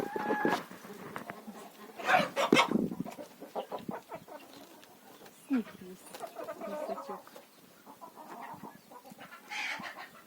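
A gander sits on snow in a wintry farmyard, cackling in short honking bursts between bites of snow. Talking runs through and around the calls.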